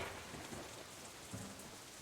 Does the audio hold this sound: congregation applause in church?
no